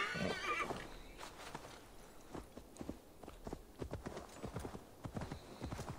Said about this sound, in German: Kann ich mein Pferd rufen?